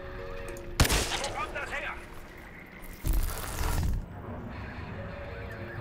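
Two sharp rifle shots from the sniper rifle in the shooter game Crysis 3, a sudden loud crack with a short tail followed about two seconds later by a longer, rumbling blast, set against steady game ambience with someone talking.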